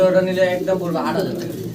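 Modena pigeons give soft throaty coos at close range, partly mixed with someone talking nearby.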